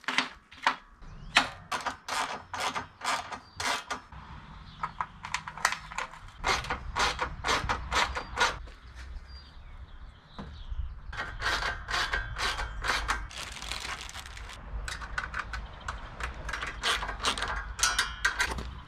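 A ratchet tightens bolts with self-locking nuts to fasten metal profiles in a low-budget camper build: repeated quick bursts of clicking strokes in uneven series, fairly close, with no talking.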